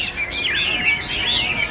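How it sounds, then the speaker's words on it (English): Caged hwamei songbirds sing together in a park in the morning, their bright, warbling whistled phrases rising and falling continuously and close by. "Most mornings in the park, these men will bring their birds so that they can sing together."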